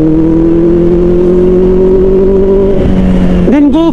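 A 2024 Kawasaki Ninja ZX4RR fitted with an Austen Racing muffler, its engine holding a loud, steady high-pitched drone before a quick series of sharp revving blips near the end.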